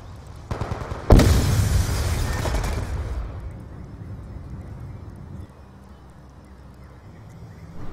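A grenade goes off in a hardcore-mode shooter match, landing in a team's own spawn. A sudden loud boom follows a faint pop, then rumbles and slowly fades over several seconds into quiet.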